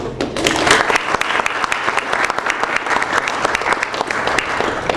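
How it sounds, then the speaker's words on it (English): Close, loud audience applause at an award ceremony, a thick continuous roar of many clapping hands with sharp individual claps standing out, steady for the whole stretch with no talk. "A lot of applause."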